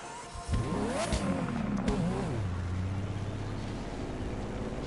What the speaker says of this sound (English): So I'm just gonna test the Testarossa.